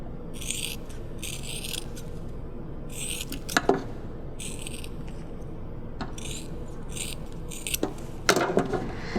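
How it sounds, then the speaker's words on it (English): Scissors snip through a soft, warm thermoplastic sheet in short bursts of crisp cutting, several strokes spaced across the clip over a steady low background hum. "we're just gonna take our scissors. When it's warm, it's really easy to cut."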